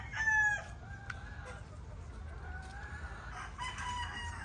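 A local banded gamefowl rooster, about five months old, crows in a hardening pen, with a strong call at the start followed by more drawn-out crowing and other birds calling faintly in the background.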